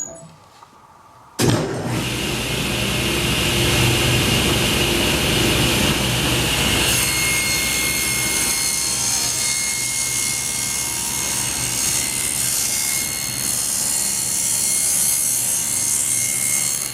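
A power saw trims a wood board down to width for a scroll saw project, starting abruptly and then running loud and continuous with a steady whine and rough cutting noise close by, with no talking.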